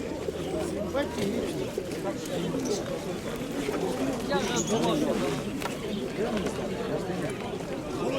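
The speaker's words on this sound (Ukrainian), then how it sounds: "Та голубка." A dove coos inside an aviary at a busy fair in Dnipro, its soft calls half-buried under steady crowd chatter and nearby voices for the whole stretch.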